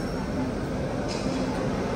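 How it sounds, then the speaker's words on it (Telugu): Prashanti Express, running from Bhubaneswar to Bangalore, at a station platform: a steady low rumble and broadband hiss of the train and busy platform throughout, fairly faint, with a brief brighter rush partway through. "ఇదిగో మన ప్రశాంతి ఎక్స్ప్రెస్ భువనేశ్వర్ నుంచి బెంగళూరు వెళ్ళేది"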